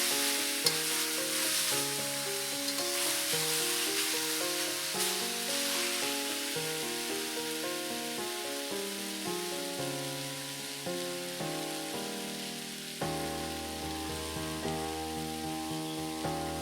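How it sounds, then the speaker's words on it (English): Beef with cumin stir-frying in a hot pan, giving a steady, bright sizzle with quiet stirring under gentle background music, with no speech. "fry it for a couple of seconds more."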